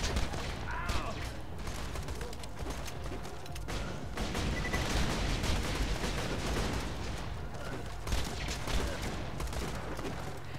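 Bursts of rapid gunfire in the video game Borderlands 2 crackle over a dense, noisy battle backdrop, with sharp shots and clattering mechanisms repeating throughout.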